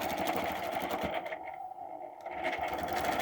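A sewing machine stitches an arc, its needle chattering in a fast, steady mechanical rhythm up close, with a brief slowdown midway before picking back up.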